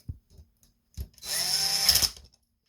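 A small power driver whirs for about a second as a coarse-thread screw is tightened into a Traxxas TRX4 axle, preceded by a few faint taps and handling clicks, close and brief.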